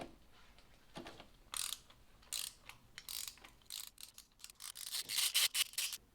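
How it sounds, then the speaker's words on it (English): A ratchet with a 3/8-inch drive, extension and 14mm spark plug socket works spark plugs out of a Mercedes M156 63 AMG V8 in a W164 ML63, giving irregular close scraping, clicking bursts that grow busier toward the end, with no speech. "Take your 14mm spark plug socket with a perfect extension like this, and of course some sort of ratchet."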